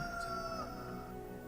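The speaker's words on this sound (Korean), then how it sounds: "바로 닭울음 소리가 들려요." Rooster crowing once, a drawn-out tonal call heard faintly and alone.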